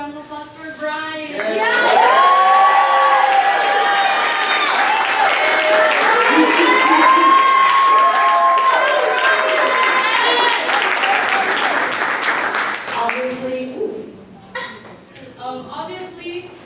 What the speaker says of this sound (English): Let's give one more round of applause for Bryan.